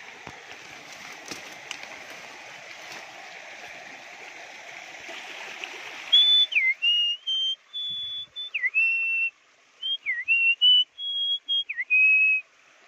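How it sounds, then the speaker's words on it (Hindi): A bird sings unseen near a mountain stream at a training camp, giving short clear whistled phrases with pauses between them. The song starts after a stretch of rushing water and is close and distinct. "कितना मधुर पक्षी है ये"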